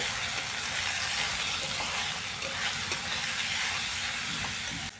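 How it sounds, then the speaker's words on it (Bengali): Minced chicken frying in a pan for chicken keema khichuri, worked with a spatula, gives a steady, loud broadband sizzle and hiss throughout, with faint scraping, no talking. "আমি খুন্তির সাহায্যে ভালো মতো মাংসটাকে কষিয়ে নিচ্ছি"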